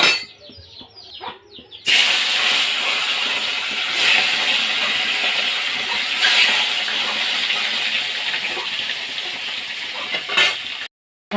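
Kalibaus and rohu fish fry in hot oil with a loud, continuous crackling sizzle that lasts several seconds and then cuts off abruptly. A quiet moment comes before it.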